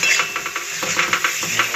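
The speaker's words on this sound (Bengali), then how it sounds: "ভালো করে বারবার কষে নিতে হবে মশলাটা" A utensil stirs and scrapes through curry masala seasoned with Kashmiri chili as it fries in a pan for prawn cauliflower curry. Steady close sizzling runs under a quick, repeated stirring rhythm.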